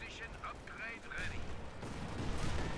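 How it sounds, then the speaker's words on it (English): Mortars firing in the video game Company of Heroes 2, a few dull booming thuds that swell toward the end amid battle noise, with a caster's voice talking over the start. "Doesn't block the mortars from firing"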